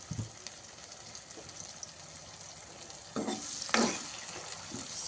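Chopped onion hits hot oil in a pan, sending up a steady fry with stirring scrapes that swell into louder sizzling bursts midway; a close, continuous kitchen sound with no talk.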